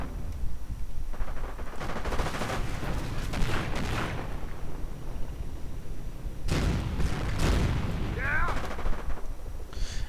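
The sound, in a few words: sniper gunfire in a video game battle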